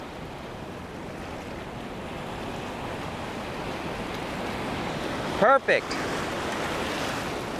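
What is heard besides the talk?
ocean surf coming in on a beach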